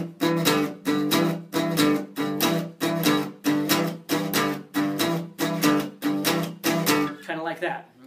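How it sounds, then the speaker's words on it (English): A guitar strums a traditional blues rhythm in about a dozen evenly spaced, loud chords of a steady shuffle, with the last chord left ringing softer at the end. "Traditional blues usually sounds something like this."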